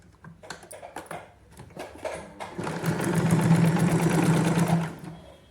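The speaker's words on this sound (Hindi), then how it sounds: "फिर हमने इस पर स्टिच लगानी है।" Domestic sewing machine stitching elastic onto the waistband of palazzo pants: a few handling clicks, then a loud, steady motor whir with rapid needle rhythm for about three seconds before stopping.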